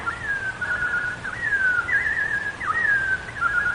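A whistled imitation of a robin's song fills a radio-play scene: one sustained, wavering melodic line with quick trills and slides, clear and close over faint room hiss, and nobody speaking.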